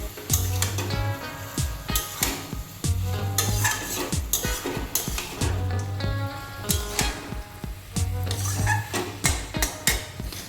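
Dried loitta fish and aubergine stirred in a pan, a spatula scraping and knocking the metal in a steady repeated rhythm over a low sizzle, close and loud.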